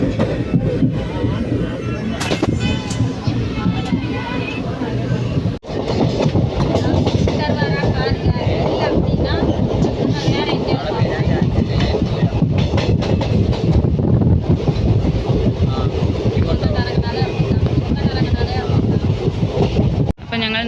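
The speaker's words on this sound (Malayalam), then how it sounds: "ട്രെയിൻ എടുത്തു" A train on the Kozhikode to Palani route rumbles steadily along the rails with rhythmic clatter and wind noise, loud and close throughout, with people talking underneath.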